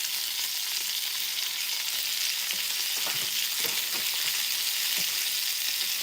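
Green beans and thyme fry steadily in a hot pan, a loud continuous sizzle with scattered small crackles and pops, with no voices.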